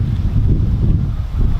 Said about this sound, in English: I apologise if it's like really windy